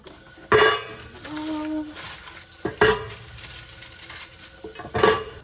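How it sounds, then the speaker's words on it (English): A metal pan is pulled out and set down with loud, close clanks, and chocolate is broken up for melting. Several sharp clatters are spaced a few seconds apart with softer handling noise between them. "let's get the pan out to melt the chocolate. Break up the chocolate."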